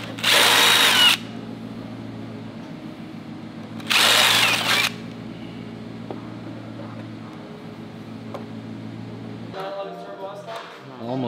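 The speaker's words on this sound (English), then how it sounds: "We're gonna remove the gasket and we're gonna drill the holes." A power drill boring holes to mount a big rear wing on a Ford Mustang, in two loud, close bursts of about a second each, separated by quieter background hum and a few small knocks.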